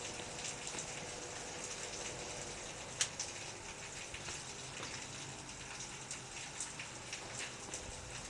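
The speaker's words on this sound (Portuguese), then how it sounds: "E tá chovendo também." Faint, steady rain patters continuously in the background as a soft, even hiss with small drips, including one sharper tap partway through.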